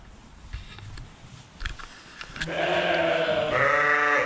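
Sheep, ewes with their lambs in winter housing, bleating: soft rustling and shuffling at first, then loud, sustained overlapping bleats close by through the second half.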